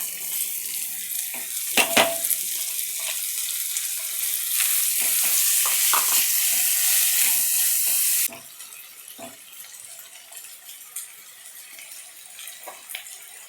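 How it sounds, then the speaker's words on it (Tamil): Onions sautéing in a pan for Tamil brinjal gravy: a loud, steady sizzle fills the first eight seconds, then drops to a softer crackle dotted with light scrapes and taps of stirring. "வெங்காயம் நல்லா வதங்கட்டும்."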